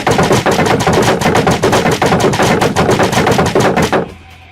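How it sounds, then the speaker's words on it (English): Rapid, loud shotgun gunfire in the Minecraft video game, a dense run of blasts lasting about four seconds before cutting off abruptly to quiet. "Ever heard of a shotgun, illager scum?"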